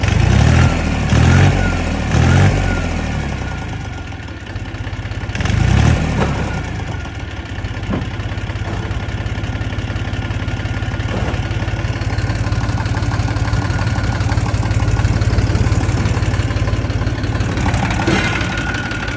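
A 2012 Dongfeng 244 tractor engine idles steadily and loudly up close, with a few revs and knocks early on before settling into a continuous diesel rumble.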